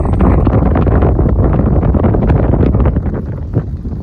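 Strong 20-25 mph right to left crosswind buffets the microphone on a football field, a loud continuous low roaring rumble that eases slightly near the end.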